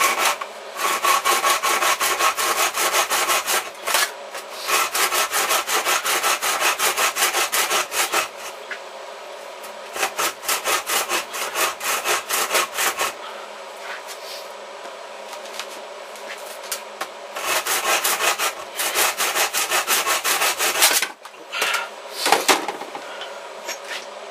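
A handsaw cuts material for a pistol crossbow build, rapid rasping back-and-forth strokes in several long bursts with brief pauses between, close and loud.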